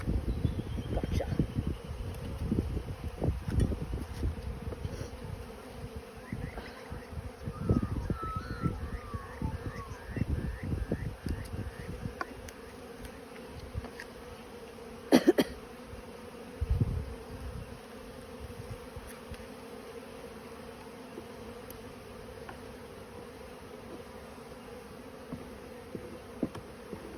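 Honey bees swarm around an opened beehive during a March inspection in Australia, a dense, continuous buzzing of many insects flying close, with occasional nearer passes and no talk.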